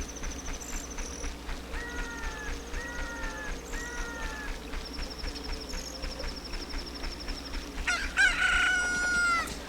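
A newly hatched chicken crows in the Zelda Ocarina of Time video game, with repeated synthetic rooster calls and clucks over a steady game backdrop, ending in a louder, longer crow.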